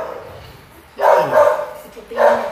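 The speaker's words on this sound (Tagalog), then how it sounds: "may pumasok na aso" A dog barks a few times at moderate distance, short loud bursts over an ongoing conversation indoors, with a pause between the first pair and a final bark.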